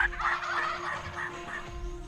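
Wild Merriam's turkeys gobble in a cold morning hunt setting, several rattling gobbles rolling one after another at moderate distance over a steady background hum.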